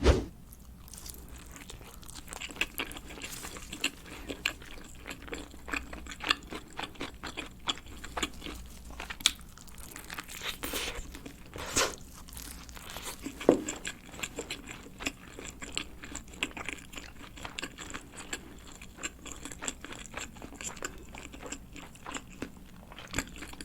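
Biting and chewing a Pizza Hut Ultimate Cheese Pocket pizza filled with raclette, mozzarella and cream cheese, topped with burger steak, bacon and kielbasa. Close, crisp crunches and steady mouth noises repeat throughout, with no talking.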